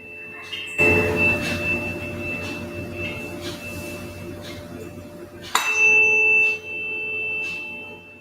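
A 432 Hz tuning fork used for biofield tuning is struck twice, each strike ringing out as a clear, sustained pure tone that slowly fades, loud and close, with no talking.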